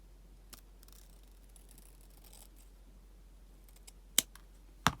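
Scissors trim the end of a pinwheel ribbon bow, giving two sharp, close snips near the end after a quiet stretch.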